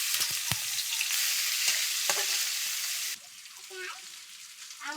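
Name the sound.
dried puti fish cooking in a pan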